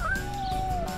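A single high, drawn-out meow from a small kitten, close and clear over a low background hum.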